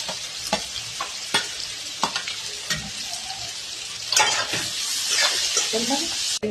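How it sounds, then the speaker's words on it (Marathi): Finely chopped onions frying in a pan for Pune-style upma, a steady close sizzle broken by sharp scraping strokes of a spoon stirring through them. "त्यानंतर 2-3 मोठे कांदे बारीक चिरून घेतलेले आहेत ते टाकूया।"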